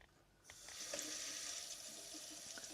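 Water from a tap in a house starts abruptly and runs in a steady, close hiss, alone, inside a Finnish house during winter.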